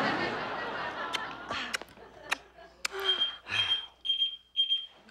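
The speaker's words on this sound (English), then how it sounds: "What is that? My alarm. I set it so I wouldn't forget the tuna." An alarm beeps in a sitcom scene, a thin high electronic tone repeating in short bursts, after a stretch of soft audience laughter and scattered knocks.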